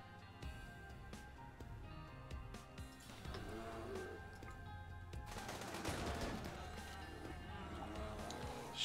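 Rapid bursts of video game gunfire, machine-gun style volleys layered over a busy game soundscape, growing denser and louder in the second half.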